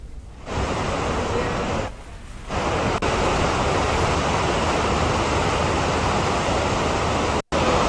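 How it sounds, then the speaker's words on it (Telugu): The Ganga river in flood near Rishikesh after heavy rains makes a loud, steady roar of rushing water, broken by a few brief cuts. "రిషికేశ్ దగ్గర భారీ వర్షాల కారణంగా గంగా నదిలో వరద పెరిగింది"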